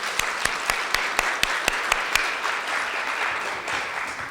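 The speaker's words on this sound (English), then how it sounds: "How about a round of applause first for all our contestants?" Audience applause for speech competition contestants in the 13–15 age category, a steady wash of clapping with a few sharp, distinct claps standing out near the start, moderately loud.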